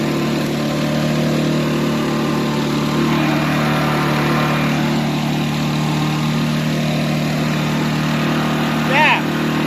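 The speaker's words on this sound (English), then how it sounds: "So, we better get the mowing in, hadn't we?" A petrol lawn mower engine runs at a steady idle in an overgrown garden, a constant close, loud drone with a brief higher chirp near the end.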